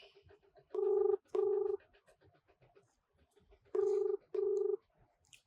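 A phone rings out with two double-buzz ringback tones separated by a pause, clear and steady over a quiet background.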